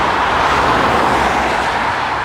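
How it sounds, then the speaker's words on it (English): Cars pass along a road in a continuous, loud wash of traffic noise, with tyre and engine roar steady throughout and no voices. "But I'm going to have to wait for these cars now to get out of my scene."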